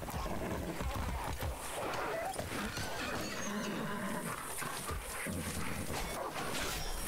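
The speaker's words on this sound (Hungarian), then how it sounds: "Hú, ezek agresszív kutyák, ezek eszik a lovat." Dogs barking and snarling as they attack a horse in Far Cry 6, with the horse whinnying; a dense, continuous game mix of animal cries and clatter, loud and busy throughout.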